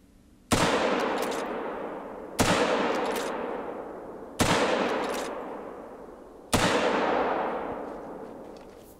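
Four loud rifle shots in theHunter: Call of the Wild are fired at a bear, each a sharp crack with a long rolling echo, spaced about two seconds apart.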